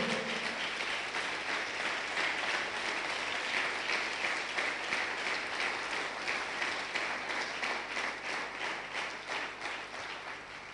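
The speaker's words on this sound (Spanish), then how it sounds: "Dice que denle el aplauso al Señor." A church congregation applauds during a sermon, a dense, sustained wash of many hands clapping that carries on steadily for several seconds before tapering gradually toward the end, heard without any speech over it.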